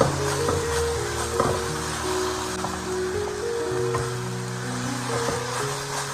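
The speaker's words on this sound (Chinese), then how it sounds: "继续开大火快速的翻炒，炒至入味，把调料炒至散开" Tofu skin and green peppers stir-fried in a wok over high heat, with a steady, loud sizzle and occasional scraping and clanking of the spatula as the food is tossed.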